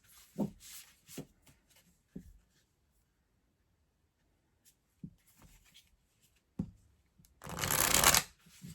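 A tarot card deck is handled and shuffled alone in a quiet room, with scattered soft taps and slides, then a loud, close riffle burst near the end.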